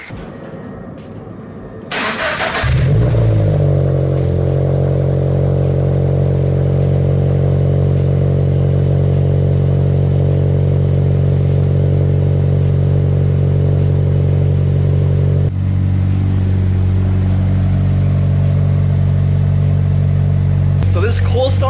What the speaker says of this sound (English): So let's get on with this cold start.